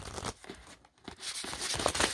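Papery crinkling and rustling with soft slaps, a stack of tarot cards being shuffled close by, continuous with a brief pause in the middle.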